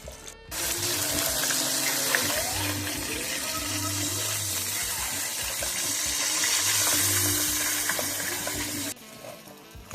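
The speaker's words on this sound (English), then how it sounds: "Alright, we're gonna let this bad boy fry." Breaded pork chops, coated in flour or panko, deep frying in a fryer. A loud, steady sizzling hiss starts abruptly, holds for about eight seconds, then cuts off.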